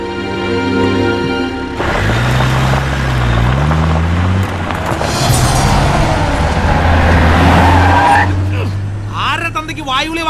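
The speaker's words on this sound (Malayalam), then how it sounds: "നീ വണ്ടി എടുക്കടാ" A car starts up and pulls away, its engine revving and rising before the tires skid and squeal, loud and close, while someone speaks over the engine.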